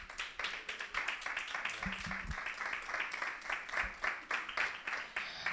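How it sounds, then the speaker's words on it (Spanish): Steady crowd applause at a church service, with dense, continuous clapping throughout, fairly loud and sustained, with a few faint voices mixed in. "le pido que puedan dar un fuerte aplauso a Aus."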